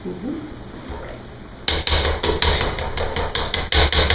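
After a quiet start, a utensil scrapes and knocks repeatedly against the bottom of a bowl of lumpy pumpkin cheesecake batter in a quick, uneven rhythm, close and fairly loud.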